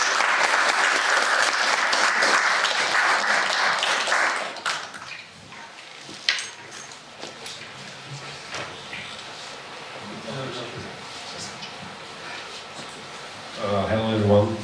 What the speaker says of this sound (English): let's give an applause to him